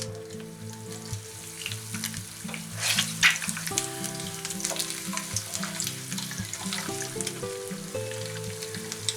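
Eggs fry in a pan beside steak and chips, a continuous close sizzle with spitting crackles and bursts of spatter, swelling briefly partway through, with no speech.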